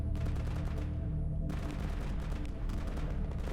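Dense, rapid bursts of gunfire in S.T.A.L.K.E.R. Anomaly crackling nearly nonstop, with heavy low booms underneath and a brief dip before firing resumes.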